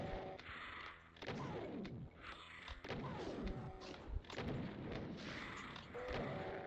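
Gunfire in the Doom game TNT, with heavy booming shots and thuds that keep coming over a loud, dense backdrop of game noise and no talk.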